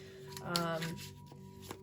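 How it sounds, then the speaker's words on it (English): Tarot cards being shuffled by hand, a soft papery riffle and flutter rising in the middle of a short stretch, with a brief snap near the end, close and fairly quiet under a faint tonal hum. "I'm just shuffling and cards are flipping out right now as I speak"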